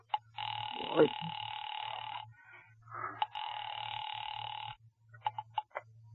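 An old-fashioned telephone bell rings in two long, buzzing bursts while a call is placed to the police department, with a short muffled voice between them and clicks afterward.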